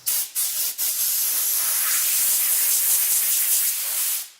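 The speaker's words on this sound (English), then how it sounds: "let's blow the dust off with an air compressor" Compressed air blasts from a nozzle to blow dust off a Honda Civic body before priming: two short hissing bursts, then one long steady rushing jet held close and loud for about four seconds before cutting off.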